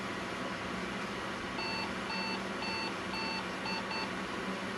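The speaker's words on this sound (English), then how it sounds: "it'll beep at us several times because these system options are not set" A vintage computer beeps at startup because its system options are not set, giving several short, evenly spaced electronic beeps over a loud, steady fan hum.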